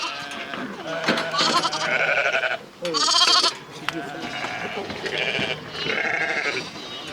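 Sheep and lambs bleat repeatedly on a Scottish farm, several loud close calls overlapping in irregular bursts with short pauses between them.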